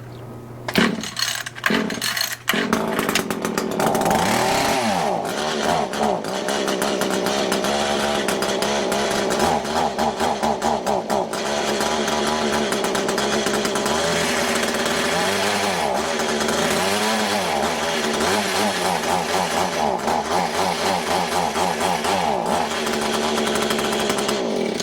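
An Echo HC152 hedge trimmer with a newly installed carburetor starts with a few pulls, then its small two-stroke engine runs steadily, buzzing loud and close with slight rises and dips in pitch.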